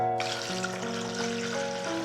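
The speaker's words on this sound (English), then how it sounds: "I'm going to fill this up with water" Water pours from a tap into a container set out to submerge fresh bamboo shoots, a steady rushing stream whose pitch rises slowly as the vessel fills, close and alone.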